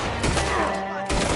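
Gunfire in Red Dead Redemption 2, a dense, loud burst of shots that fills the whole clip, briefly dips, then surges again, with game voices mixed in.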